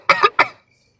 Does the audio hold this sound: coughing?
yes